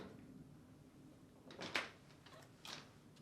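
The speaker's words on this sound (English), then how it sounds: "Then, pull the bottom dish rack out and set it aside." A quiet clatter and scrape as a Whirlpool-family dishwasher's bottom rack slides out, a couple of short rolling bursts against a faint background hum.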